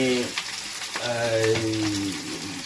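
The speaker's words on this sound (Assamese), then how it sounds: "এতিয়া পিঁয়াজটো ব্ৰাউন নোহোৱালৈকে এইটো ফ্ৰাই কৰিব লাগিব।" Onions frying in hot oil with toasted cumin seeds, a steady close sizzle with crackling bursts, while a voice talks over it throughout.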